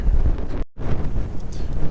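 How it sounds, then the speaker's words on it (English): Loud wind buffets the microphone in a continuous rumbling roar that drops out for a brief moment before returning. "It's a bit too windy for it to stay in the tree."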